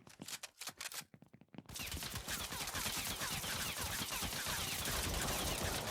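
Rapid, dense gunfire from a video game, opening with a few separated bursts and then building into a loud, continuous barrage of shots and impacts that fills the rest of the stretch.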